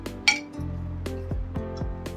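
Red chilli powder, turmeric, semolina and flour being mixed in a dish for a Malvani prawn fry: a sharp spoon clink, then soft scraping and tapping over background music.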